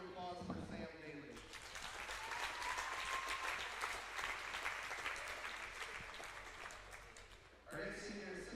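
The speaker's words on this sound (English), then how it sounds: "Another big round of applause for Sam Daly." A crowd at a varsity wrestling dual applauds a senior wrestler, a dense sustained clapping that swells and holds for several seconds, with a voice talking briefly before and after it.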